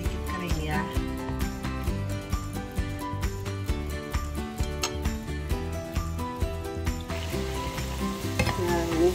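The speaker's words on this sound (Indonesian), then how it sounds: "Kita goreng sampai sedikit kering ya." Tempeh fries in olive oil with pepper in a pan, giving a steady loud sizzle with stirring scrapes, while background music plays throughout.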